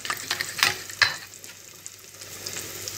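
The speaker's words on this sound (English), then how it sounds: "Mix it very well." Egg sauce ingredients being mixed together in a bowl, with a few soft scraping and clinking bursts early on, then quieter steady stirring noise, close by with no talking.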